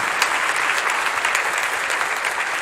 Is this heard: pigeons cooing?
no